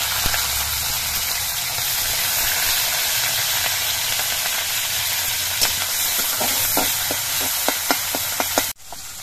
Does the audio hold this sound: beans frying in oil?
yes